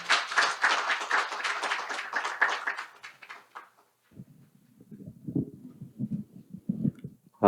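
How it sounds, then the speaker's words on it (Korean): A conference audience claps for a speaker being welcomed to the podium at an accounting-reform forum: a dense burst of applause for about three and a half seconds, then a quiet stretch with soft low thumps and shuffling. "큰 박수 부탁드리겠습니다."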